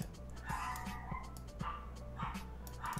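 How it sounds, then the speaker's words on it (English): A pet dog barks and whimpers in the background, with short yipping bursts repeating about every half second over a low steady hum. "that's my dog."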